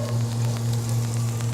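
Onions sizzle steadily in olive oil in a pan, a continuous close crackling hiss with a low steady hum underneath and faint scattered pops throughout.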